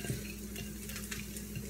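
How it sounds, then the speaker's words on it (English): Food coated in Caribbean jerk seasoning is stirred in a hot pan, with a steady low sizzle of frying and soft utensil scrapes and clinks close by. No one speaks. "Give it a big stir up."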